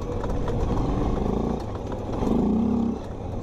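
A four-wheeler ATV engine with a freshly rebuilt carburetor runs steadily nearby, a continuous low rumble that dips briefly and then swells again as it revs.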